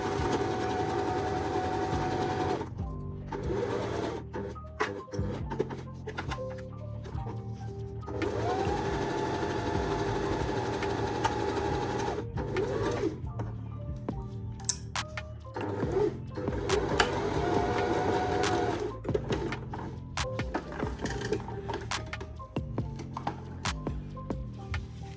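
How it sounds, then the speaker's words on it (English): Close, steady whirring of a sewing machine edge-stitching satin for a pearl-trimmed hair bow, running in sustained bursts broken by brief pauses across the stretch, with no voices. "Using an edge stitch."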